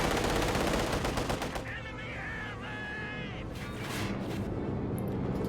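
Machine gun fire and explosions in the Company of Heroes strategy game during a tournament match, dense and continuous battle sounds with bursts of rapid gunfire running through the whole stretch.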